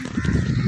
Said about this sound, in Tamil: ஓ, அதுக்கு இப்போ பெரிய காக்கெல்லாம் நிறைய வருது.